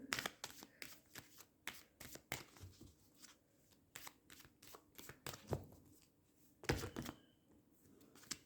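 Tarot cards being shuffled and drawn by hand during a reading, a close, soft run of riffling and flicking bursts with brief pauses between, quiet and without talk.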